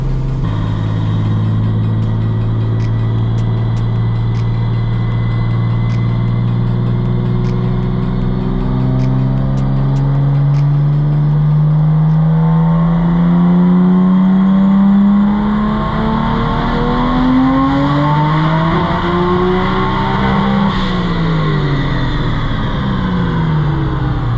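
Built RB20DET engine in a 1991 Nissan R32 Skyline GTST revving on a dyno, a loud sustained pull with rising engine pitch that climbs steadily, dips and climbs again near the end, with no talk.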